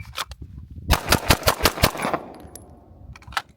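A Fusion Firearms XP Pro 1911, a double-stack pistol taking Glock magazines, fires a rapid string of about seven loud, close shots, followed by a few fainter later reports.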